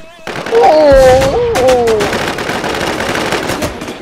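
Heavy gunfire in the Infestation video game erupts in a loud, close burst of rapid shots that rattles on and slowly fades, with a voice calling out over the start of it.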